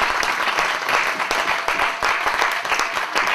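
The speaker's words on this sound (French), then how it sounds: "Est-ce qu'on peut acclamer Jésus?" A church congregation applauding in worship of Jesus, loud dense clapping with steady rhythmic pulses from a close crowd, no speech over it.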